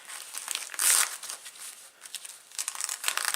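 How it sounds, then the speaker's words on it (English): A dried transparent layer being peeled off a surface, producing close, crinkly crackling and tearing in irregular bursts, louder near the start and end, with no talking. "you see how easy it is to come back in and peel this off"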